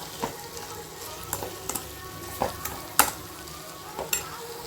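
Shrimp masala gravy is turned over in a pan on a low flame, quiet background sizzling punctuated by irregular scraping and clinking stirs of a spoon, close up and without speech.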